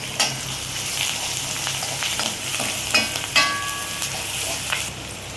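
A spoon stirs ginger garlic paste through hot oil in a pan for egg Maggi, a steady close sizzle with scattered scraping clicks against the pan.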